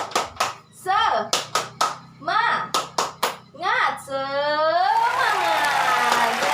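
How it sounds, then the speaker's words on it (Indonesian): A group does the Indonesian 'tepuk semangat' clapping chant: crisp, close rhythmic claps in quick sets with voices calling in between, ending in a sustained shout. "Kita lakukan tepuk semangat ya"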